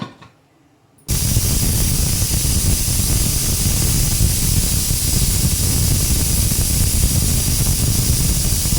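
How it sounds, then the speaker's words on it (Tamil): After a second of near quiet, a pressure cooker cooking rice bursts into a loud, continuous hissing whistle of steam that holds steady to the end. "இப்போ ரெண்டு விசில் வந்துடுத்து"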